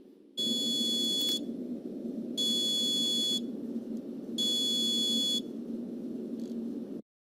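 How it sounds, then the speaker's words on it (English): A homemade automatic pasta cooker's timer buzzer goes off in three loud, evenly spaced bursts of about a second each, over a steady background hum, with no talking. "let's take a look at what is going to happen with the buzzer once that goes off"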